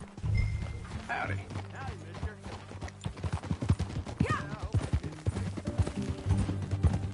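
Hooves clip-clop steadily while riding horseback in Red Dead Redemption 2, a rhythmic trotting beat under brief spoken greetings and a low background hum.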